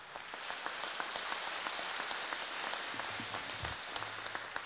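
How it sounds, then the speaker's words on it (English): A school general assembly audience claps, soft and somewhat distant, a steady patter of many hands with a few sharper individual claps standing out. "Let's give them a round of applause, folks"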